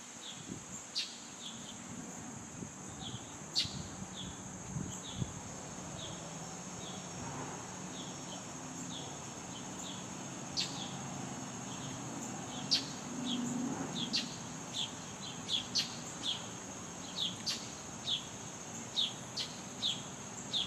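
Birds chirp in a shady outdoor spot on a cool August day, with repeated short high tweets scattered over a steady insect-like hum, moderately distant and with no voices.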